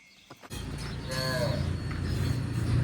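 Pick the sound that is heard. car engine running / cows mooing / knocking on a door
cows mooing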